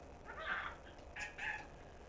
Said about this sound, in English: The bird is sitting in front of the box of my Clone Card Tarot and is having a chat with it.